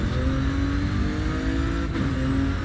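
Car engine in the racing game Forza Horizon 5, Hot Wheels expansion: a steady, loud revving drone with a brief shift dip near the end, no talk.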